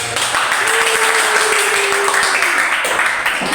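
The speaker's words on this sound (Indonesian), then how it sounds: "Oke, tepuk tangan." Loud crowd applause fills a classroom after a group presentation at a teaching performance assessment, continuous and close, with a faint sustained tone underneath and a brief voice near the end.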